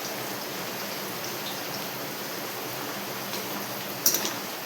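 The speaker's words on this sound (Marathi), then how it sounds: "पाऊस तर खूप चालू आहे बघा बाहेर" Heavy rain falls outside, heard as an even, continuous hiss at moderate level, with a short knock just before the end.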